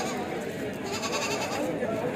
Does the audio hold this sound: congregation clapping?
no